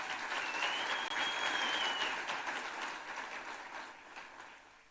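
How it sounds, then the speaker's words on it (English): An audience at a coal-sector safety conference claps together in a sustained round of applause, loud at first and gradually thinning out. "I really want us to give ourselves a round of applause for that."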